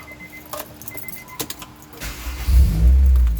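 A first-generation Honda CR-V (RD1) engine is cranked and catches, rising into a loud, steady low rumble after a few light clicks and a brief key jingle, with no talking.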